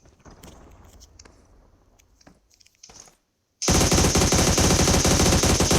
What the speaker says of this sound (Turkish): Arkadaşlar oradan silah sesi geldi ya buradan şimdi.